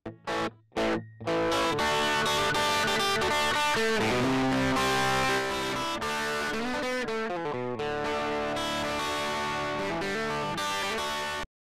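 Music plays with a gritty, heavily distorted effect from Logic Pro's distortion plugin applied, after a few brief stuttering starts, continuing steadily at an even level.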